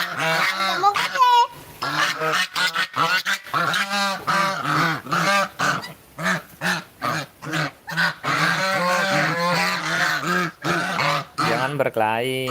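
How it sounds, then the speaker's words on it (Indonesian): Geese honking repeatedly in short, loud bursts close by, with a person talking over and between the calls throughout. "Jangan berkelahi angsa."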